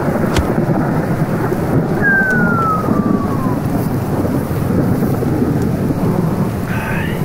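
Heavy thunderstorm over a mountain campsite at night on a multi-day trek, with loud rolling thunder and steady pounding rain mixed with gusty wind buffeting the microphone throughout, no speech.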